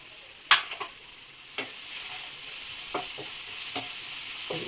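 Onion and tomato fry with coriander powder in a pan for egg curry, a soft sizzle underneath a few sharp stirring scrapes and taps spaced across the clip.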